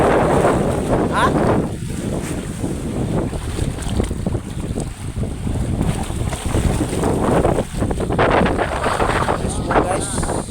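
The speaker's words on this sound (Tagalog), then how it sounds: "Masyadong maalon dito guys." Rough sea waves and strong wind on a boat, heavy wind buffeting the microphone over a constant roar of surf and engine, loud and close, with people talking throughout.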